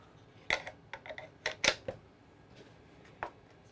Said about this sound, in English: And insert your magazine